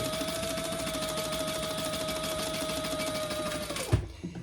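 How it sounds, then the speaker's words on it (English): A sewing machine stitches across the top of a diaper backpack in a steady, close, rapid whir that winds down and stops near the end, followed by a soft clunk. "we're just sewing across that top"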